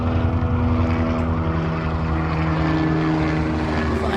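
An American Medical Response helicopter flying overhead near Upland, its engine and rotor producing a steady loud droning hum with layered tones that persists throughout, with no voices.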